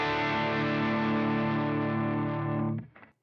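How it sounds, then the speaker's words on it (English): Electric guitar through an amp with the amp's own distortion, a loud sustained overdriven chord ringing for nearly three seconds before being cut off, then a couple of faint muted strums. "this will be my tone with the amp, with the normal distortion of the amp"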